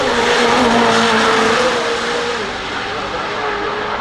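A supercar drives past at a hypercar gathering, its engine a loud, sustained roar with a tonal whine that slowly drops in pitch as it passes close by, filling the whole moment.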